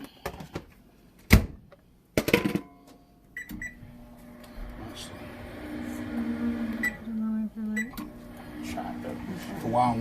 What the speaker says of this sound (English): Now I'm melting the butter in the microwave.